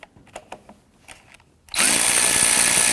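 A power tool, likely an impact driver, loosens the 10mm nut on the negative battery ground terminal of a 2017-2020 Hyundai Elantra 2.0L. The work area is quiet at first, then the tool starts suddenly and runs loud and steady to the end.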